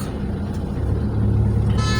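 Idling road traffic in a long jam at a red light on the way to Panchkula, India: a steady low engine rumble from many stopped cars and trucks, close by and continuous, with no voices.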